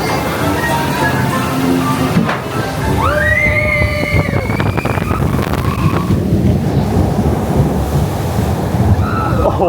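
A water wave splashing over the front of a boat on a theme-park ride at Walt Disney World, a loud continuous surging wash of water with brief tonal squeals and riders' voices mixed in.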